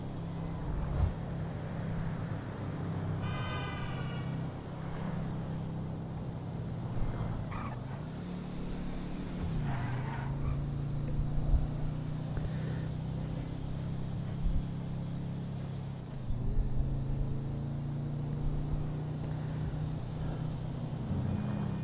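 Steady low engine drone of a slow car driving through traffic in the video game GTA, a continuous hum with faint passing vehicle swells and occasional brief thumps.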